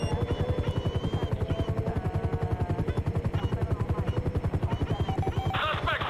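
A helicopter flies in GTA 5 with loud, rapid rotor thumping in a steady rhythm over a droning engine whine, close and sustained for the whole stretch.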